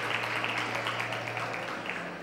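Studio audience applause on a Greek television talk segment, a steady, moderately faint wash of clapping lasting a couple of seconds with no voices over it.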